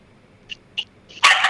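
A feisty 3.5-pound dog yaps indoors, with two quick, light, high-pitched barks followed by a louder, sharper burst of yapping close to the microphone.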